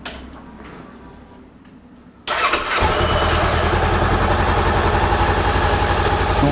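A motorcycle engine cranks and fires after an oil change, jumping from quiet ticking to a loud, close, steady idle that chugs evenly to the end.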